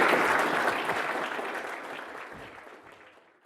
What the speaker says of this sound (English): you can clap for a small period